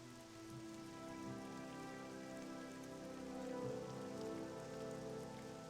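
Steady rain pours in Morrowind, a continuous dense hiss of drops on surfaces with a faint tonal music bed underneath, even and unbroken throughout.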